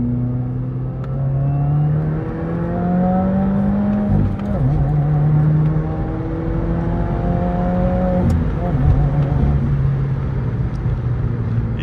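A 2021 Subaru WRX accelerates hard from second gear at about 40 mph. The engine drone climbs steadily in pitch, breaks briefly at a gear change, then rises again, heard loud from inside the car.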